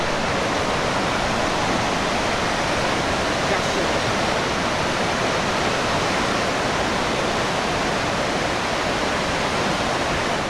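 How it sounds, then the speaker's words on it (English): Shuswap Falls, a river waterfall, rushes in a loud, unbroken roar of churning water. It holds steady and close for the whole stretch with no other sounds above it. "obviously you can't canoe down this waterfall"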